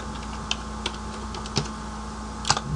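Sparse key taps on a computer keyboard while working in Visual C++, four or five isolated clicks spread over a steady background hum, fairly close but soft.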